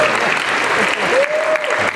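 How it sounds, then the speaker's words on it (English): Loud, thick crowd applause at a bodybuilding seminar at the Mr. Olympia event, with a voice speaking briefly over the roar. "You can clap, man."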